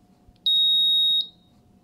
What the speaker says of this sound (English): That sounds like a fire alarm. A smoke detector, I should say,